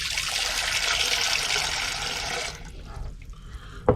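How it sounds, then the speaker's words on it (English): Cold water pours steadily into a kitchen bowl for about two and a half seconds, a loud broadband splashing rush, then stops and leaves faint drips and small clinks nearby. "I have a bowl here, which I'm going to put some cold water in."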